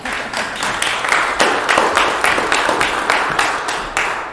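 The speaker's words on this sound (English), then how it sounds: "Let's give Sam a round of applause" An audience at a 1 Million Cups pitch event in Sedalia applauds as a speaker from The German Table takes the stage; loud, sustained clapping with sharp, fairly regular hand claps standing out near the front.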